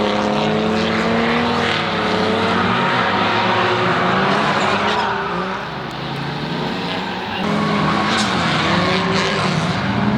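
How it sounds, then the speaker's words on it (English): Race cars roar past on a track, engines droning loud and close with rising and falling pitch as they pass, a brief dip in level midway before the next cars sweep by. "We got cars coming, so let's take it up."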